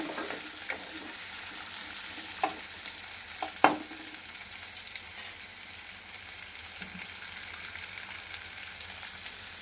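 Ginger and green chillies frying in a pan for a bitter gourd stew, a steady close hiss of sizzling oil with a few soft spoon taps and scrapes as they are stirred.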